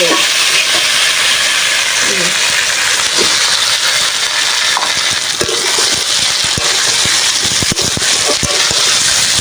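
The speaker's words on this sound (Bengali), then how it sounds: "ডাটাগুলো ভাজা ভাজা হয়ে গেছে, আলু ভাজা আর কুমড়ো ভাজা দিয়ে দেবো।" Malabar spinach stalks frying with potato and pumpkin in a pan, a loud continuous sizzle with occasional stirring scrapes and clinks throughout.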